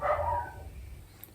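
A dog named Quincy barks indoors, a short burst of a couple of close, moderately loud barks that quickly fade into quiet room tone.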